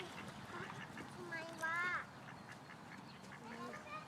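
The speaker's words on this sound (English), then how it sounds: "Ducklings down there in the water." Ducklings quacking on the water, a few soft calls rising briefly in the middle and near the end, with people talking throughout.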